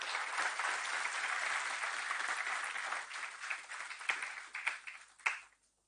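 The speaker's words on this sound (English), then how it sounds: "I request all of you to give a thunderous applause to welcome Lordship." Sustained audience applause welcoming a judge at a Delhi High Court inauguration ceremony, steady clapping that thins into scattered claps and stops abruptly near the end.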